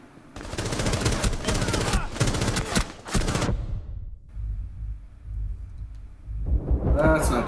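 Volleys of video game gunfire rattle in rapid, loud bursts, then fall to a quieter rumbling stretch before more shots cut in near the end.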